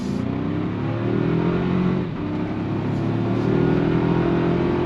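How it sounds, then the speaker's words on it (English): The four-cylinder turbo engine of a 2025 Toyota 4Runner TRD Sport pulls hard under acceleration, a loud steady drone rising in pitch with a brief dip mid-way as it shifts, close and continuous. "What you're hearing is the sound of the 4-cylinder turbo"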